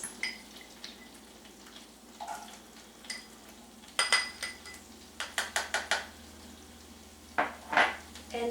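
Onions tipped into melted butter in a hot pan for an Italian beef cheesesteak, with scattered crackling sizzle bursts and a few sharp clinks of utensil against pan, moderately close, no talking.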